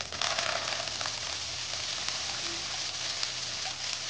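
Coriander and curry leaves sautéing in a pan for a Marathi-style brinjal masala premix, giving a steady, dense crackling sizzle with a few sharper pops throughout.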